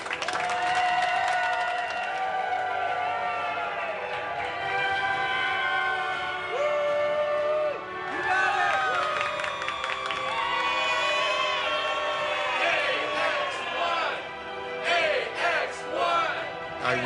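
A crew systems team cheers and applauds for a private space mission to the International Space Station, a continuous crowd roar with whoops and shouts swelling and fading throughout.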